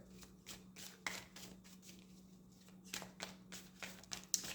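Tarot cards being shuffled by hand during a reading, a quiet run of soft riffling bursts and taps in steady rhythm, close and alone over a low background hum.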